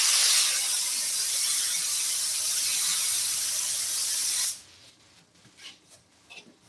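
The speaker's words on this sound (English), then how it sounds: "You can just spray it to where it sticks in place." Spray adhesive hisses from an aerosol can in a steady, close, even burst for about four and a half seconds as material is lightly coated to hold it in place, then cuts off to quiet.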